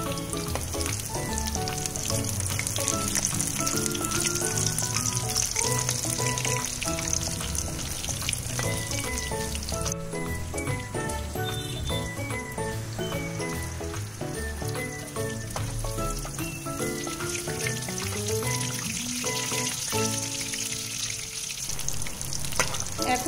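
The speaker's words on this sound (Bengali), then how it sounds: "স্লো আঁচ দিয়ে একটু আমরা কিছুক্ষণ ধরে এটা ভাজবো। যাতে পুরো ভিতরটাও ভালোভাবে ভাজা হয়।" Small shrimp pakoras fry on low heat with a dense, continuous bubbling sizzle of oil, close and steady from start to finish.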